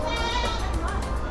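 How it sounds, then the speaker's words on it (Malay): A goat bleats at an urban city farm in Seri Kembangan, a wavering call heard up close over steady crowd and background noise, with faint voices around. "Ni kambing."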